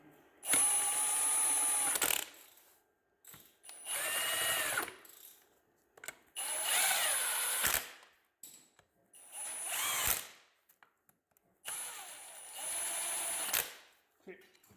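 An impact wrench runs down bolts on a VQ motor in five separate bursts, each lasting one to two seconds with a whining buzz, spaced by short pauses with faint clicks; close and loud, no talk over the bursts.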